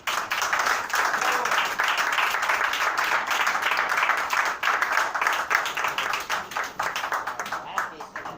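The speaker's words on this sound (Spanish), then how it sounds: "un gran aplauso para Sara Jordán, para Juan Cameron" Audience at a poetry tribute event applauding, sustained mixed clapping with cheering voices and chatter throughout, moderately loud and fading slightly toward the end.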